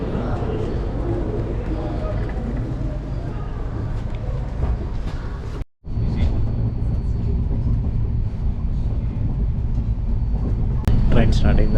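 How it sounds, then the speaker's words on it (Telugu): Steady rumble of a moving passenger train on the Hyderabad to Vijayawada route, heard from inside the coach, with a brief dropout midway and a voice talking over the continuous running noise. "ఆల్రెడీ ట్రైన్ మూవ్ అయిపోయింది."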